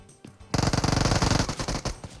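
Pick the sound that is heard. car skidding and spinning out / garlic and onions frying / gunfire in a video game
gunfire in a video game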